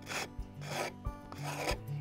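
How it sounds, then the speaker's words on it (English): A wood rasp files a round wooden hoop in slow, rough back-and-forth strokes, about three rasping passes with brief pauses between, close up and fairly quiet. "We can take the rasp"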